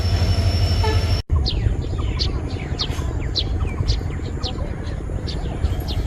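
A train rumbles through a railway station yard in Dibrugarh, Assam, loud and close, with a steady low roar and a run of rhythmic wheel clatter and squeals after a brief cut near the start.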